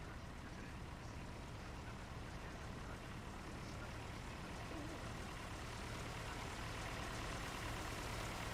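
A tractor engine in Farming Simulator 19 labours steadily under load while pulling a cultivator, a constant low drone at an even level throughout.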